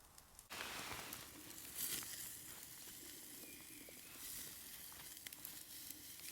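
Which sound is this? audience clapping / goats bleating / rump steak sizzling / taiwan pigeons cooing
rump steak sizzling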